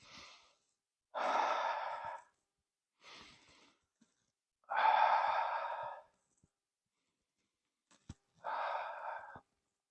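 Slow, deep breaths in and out, each a soft airy rush lasting about a second, separated by quiet pauses, close to the microphone.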